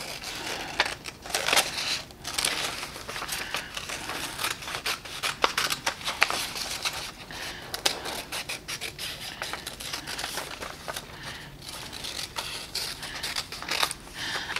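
Scissors snip through paper in a quick, irregular run of close cuts, trimming out the inside area of a paper hand shape for a heart card, with no talking.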